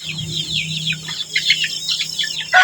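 Newly moved chicks in a brooding range give a steady stream of high, rapid peeping chirps close by, with a low hum underneath and no voices.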